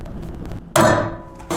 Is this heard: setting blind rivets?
yes